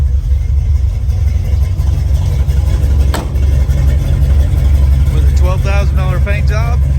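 A 1977 Chevrolet Bonanza short-bed truck with a 350 V8 idles with a deep, steady low rumble, loud and close, while a voice speaks briefly over it near the end.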